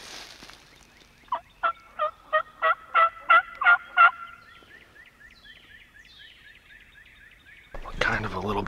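A wild turkey in the Illinois spring season woods lets out a rapid gobble of about eight loud, evenly spaced pulses. Quiet follows, then a burst of rustling noise close by.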